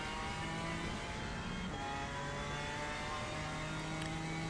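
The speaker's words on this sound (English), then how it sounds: "Through the gears with the beautiful BMW." BMW M4 GT4 race car in Assetto Corsa Competizione at Monza, engine pulling steadily through the gears with rising and falling harmonic whine, loud and continuous, no speech.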